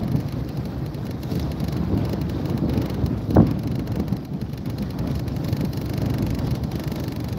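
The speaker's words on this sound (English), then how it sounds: "Here comes that wind." Wind blows steadily outdoors beside a lake, a continuous broad rushing roar buffeting the microphone, with one brief knock or thump in the middle and no speech.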